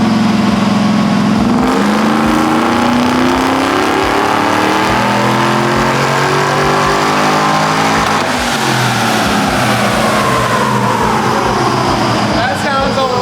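Loud supercharged truck engine revving hard, pitch sweeping up and down through several sustained revs, close and continuous, with talk faintly underneath.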